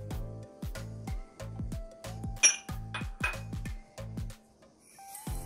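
A spoon mixes fennel seeds with sesame, melon seeds, almonds, coconut, dried dates and gold and silver balls in a bowl, giving quick rhythmic clinks and scrapes that repeat in bursts, close and clear.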